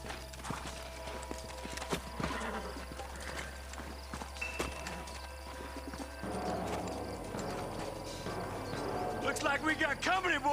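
Horse hooves clip-clop in a steady walking rhythm in Red Dead Redemption, mixed with game ambience and music, and a voice speaks over them toward the end.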